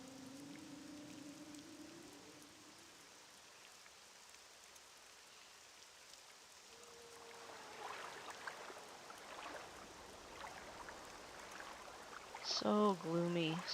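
Steady rain falls in the video game Morrowind, a soft continuous hiss filling the background at low volume, with brief voices and louder game sounds near the end.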